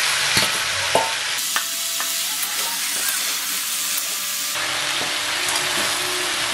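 Potatoes and cauliflower stirred into vegetables already frying with dried red chillies in a pan, giving a steady close broadband sizzle with clinks and scrapes of the spoon, a brief drop around the add, then loud continuous frying again.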